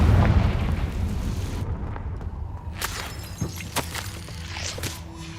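Confringo fire-spell explosion from the video game Hogwarts Legacy: a loud booming burst that rumbles and fades, followed by cracks and shattering debris, with no talking.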